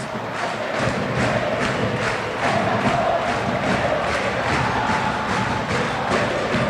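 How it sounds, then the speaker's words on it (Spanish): Cerro Porteño supporters roar together in a packed Paraguayan stadium during a league match against Club Nacional, a dense, sustained crowd chant with rhythmic pulses and thuds running steadily throughout. "El grito del hincha de Cerro"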